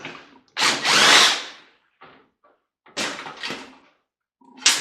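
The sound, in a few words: power drill removing a screw from a microwave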